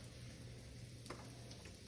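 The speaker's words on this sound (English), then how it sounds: "I can tell that the pan's nice and hot because it's starting to sizzle and starting to bubble a little bit" Mushrooms fry in a hot pan, giving a faint, steady sizzle with a few small crackles and pops and no talking.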